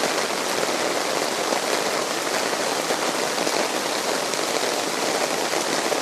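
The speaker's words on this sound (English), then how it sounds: "Rain, rain, rain." Heavy rain falls on a rainy Sunday, a dense, even roar of drops on surfaces that stays constant and close throughout with no voices.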